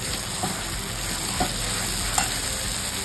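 Fried cauliflower and potatoes in a pan after poppy seed paste and a splash of water go in, a close, steady sizzle with soft stirring scrapes and light clicks, no voices.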